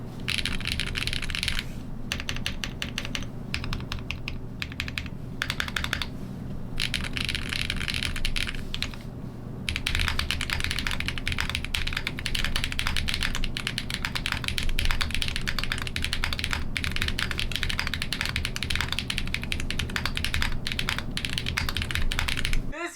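Keys clack rapidly and continuously on a custom mechanical keyboard, a close, crisp run of keystrokes with only brief pauses, no voices.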